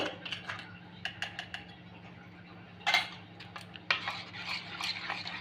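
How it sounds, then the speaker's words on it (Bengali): Coriander leaf chutney and yogurt are stirred together in a bowl with a spoon, making soft, close scraping and clinking strokes with a few sharper knocks. "ধনে পাতার চাটনিটা একসাথে ভালো করে মিশিয়ে নেব"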